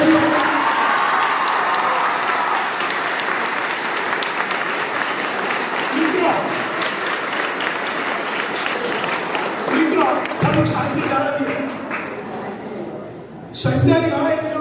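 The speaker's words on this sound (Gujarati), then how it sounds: "વક્તા શ્રી સંજયભાઈ રાવળનું તાળીઓના ઘર કરવાથી" An audience at a village community event applauds a speaker in a sustained, dense wash of clapping that fades toward the end, where brief talk and a few scattered claps follow.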